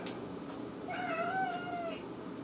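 A domestic cat meows once in a drawn-out, wavering call close to the listener, heard alone over a low room hum with no one talking.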